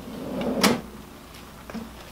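A Hettich AvanTech YOU drawer side system is pulled open and pushed shut, giving a close, solid thud followed by a softer knock.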